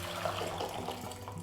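Hot boiling water streams into a container in a kitchen, a short steady pour of splashing liquid with no speech.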